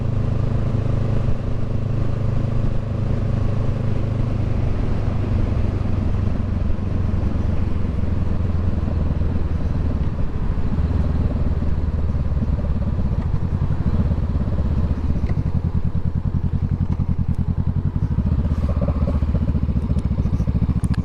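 Honda Rebel 500 motorcycle fitted with a Radiant Cycles Shorty GP baffle exhaust, running loud and close with a continuous deep, throbbing rumble and no pauses.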